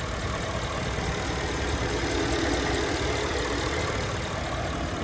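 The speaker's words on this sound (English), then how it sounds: "So there is the twin turbo V8." Steady, even idle of a 2020 Bentley Mulsanne Speed's twin-turbo V8 with the hood open, a constant low hum and rumble heard up close with no talking.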